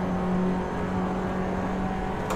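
In a racing video game, a car's engine drones at a steady strained pitch as the gearbox labours, a continuous mechanical hum with a faint whine, fairly quiet and free of talk.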